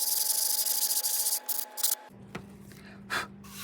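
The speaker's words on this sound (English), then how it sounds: "Then we take our 220 grit, we give it a light sanding" Soft, steady rubbing of 220-grit sandpaper lightly sanding a finished wood surface, a continuous hiss that breaks into a few short strokes near the end.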